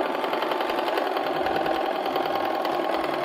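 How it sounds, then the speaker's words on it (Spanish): A sewing machine running a straight stitch through fabric that frays easily, a fast continuous mechanical whir with rapid needle ticking, loud and close and steady throughout, with no voices. "Vamos a coser en costura recta primero porque esta es una tela que se desarma un poquito."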